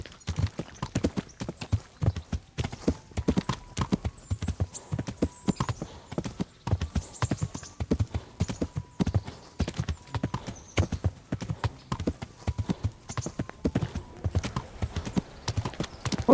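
Horse hooves clip-clop in a fast, steady galloping rhythm throughout, close and loud, from a horse ridden by a video game character.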